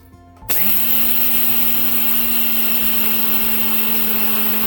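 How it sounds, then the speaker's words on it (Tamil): A mixer grinder grinding rice switches on abruptly and runs with a loud, steady high-pitched whir and grinding roar, close by and constant. "மிக்ஸி ஜாருக்கு ஏற்ற மாதிரி கொஞ்சம் அரிசியாக போட்டு அரைக்க போகிறேன்"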